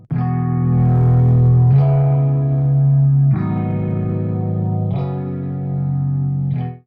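Rhodes electric piano with plugin drive added, slow sustained chords changing about every second and a half, warm and gritty with a shimmering chorus-like wobble, played alone and up front.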